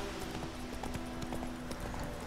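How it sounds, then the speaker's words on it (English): Vesemir's horse in The Witcher 3 clip-clopping steadily, a quick run of hoofbeats over a loud, constant background wash. "Oh, there's Vesemir's horse."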